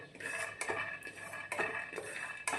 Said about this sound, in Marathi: शेंगदाणे देखील इथे मी असे खरपूस असे भाजून घेतले आहे